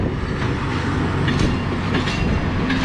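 An old Romanian CFR train rolls past on the railway tracks, its loud steady rumble and rattling wheels filling the whole stretch with a few sharper clacks and metallic squeals.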